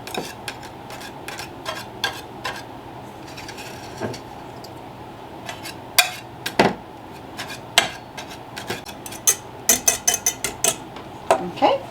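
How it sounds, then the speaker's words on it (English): A whisk breaks up eggs in a bowl with irregular clinks and taps against the sides, starting light and growing into sharper, quicker clatters, close by over a low background hum. "So I'm just going to take my whisk here, and I'm just going to kind of smash the eggs just a little bit, just to kind of break them up some."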